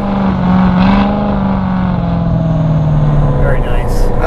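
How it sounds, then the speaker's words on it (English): A Hennessey HPE850 Z06 Corvette engine drones loud and close, holding a steady low tone that sags slightly, with occasional higher bursts near the end. "The car sounds absolutely amazing."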